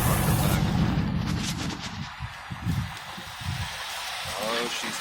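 A Camaro SS V8 idling through a full Borla stainless exhaust, a rough, burbling rumble that pulses steadily and close, with a possible exhaust leak.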